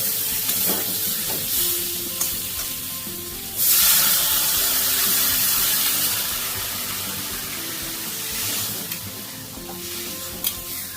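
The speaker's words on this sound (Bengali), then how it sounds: "এবার আমি এর মধ্যে জল দিয়ে দিচ্ছি।" Water poured into a pan of frying spice paste for a Katla fish curry with potato and pointed gourd, with a sudden loud hissing burst that settles into a bubbling, simmering sizzle nearby.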